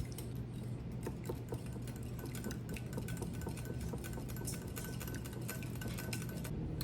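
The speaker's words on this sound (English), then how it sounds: "Now we're just gonna be giving this a good whisk to get all these ingredients combined." A whisk beats wet cake batter with vanilla extract in a bowl, producing fast, steady rhythmic clicking and scraping that continues close and unbroken throughout.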